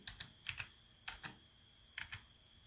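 Keys on a computer keyboard clack in short quick pairs and small clusters with pauses between them, close and quiet, as someone types a Windows command into a search bar.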